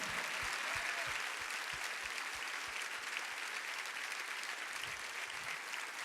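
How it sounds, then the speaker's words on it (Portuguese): Loud, dense applause from a church congregation fills the room, starting with a rhythmic clapped beat that dissolves into continuous crowd clapping. "Aplauda forte aí, meu irmão, vamos!"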